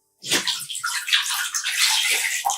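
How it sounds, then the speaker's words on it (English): During a foot soak, clean water is poured over a foot, giving a steady, close, splashing rush that starts abruptly and runs for a couple of seconds with small gurgles and no talk. "we will take out 1 feet at a time from the water and rinse it with the clean water"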